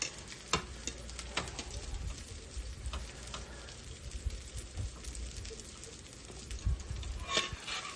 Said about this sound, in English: Need that sizzle